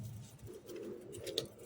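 Black desi pigeons coo close by in a few soft, throaty bursts, with a brief rustle near the end and no talking.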